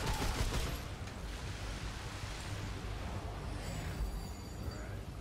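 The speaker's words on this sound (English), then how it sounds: "I just hear explosions" Rumbling explosions from the video game Remnant 2, a dense, continuous wash of booming noise that is loudest at the start and stays steady throughout, with no speech.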